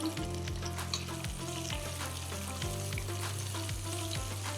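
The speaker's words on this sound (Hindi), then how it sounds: "इन में फ्राई थींदी हे असांजी किशमिश" Raisins fry in a pan for a festive dessert, a soft steady sizzle with regular low background thumps, fairly quiet and close, no talk.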